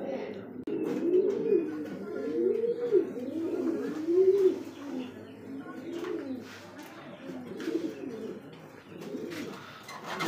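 Pigeons at a pigeon farm coo in steady, overlapping rolling phrases close by, with a few faint chirps mixed into the continuous cooing.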